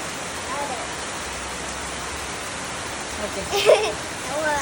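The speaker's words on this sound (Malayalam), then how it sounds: "പുറത്ത് നല്ല മഴ" Steady rain hisses throughout, broad and even, with a person's voice rising briefly over it near the end.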